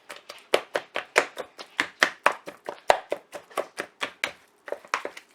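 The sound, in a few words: beating meat to tenderize it for carne con chile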